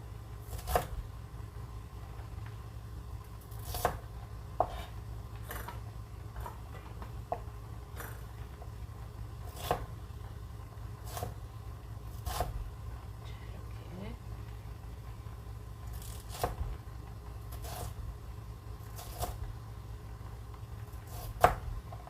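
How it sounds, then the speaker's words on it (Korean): A knife slices chestnuts into quarters on a cutting board, giving about a dozen crisp, evenly spaced chops over a low steady hum, close and fairly quiet. "이거 밤을 한 4등분으로 이렇게 편을 썰면 될 것 같아요"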